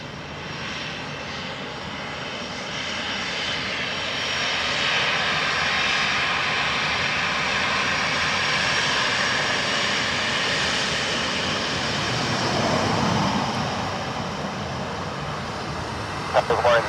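Aircraft landing on runway 28 left at Dublin Airport, a broad steady jet engine roar that swells through the middle and eases off, fairly distant and continuous, alone without talk.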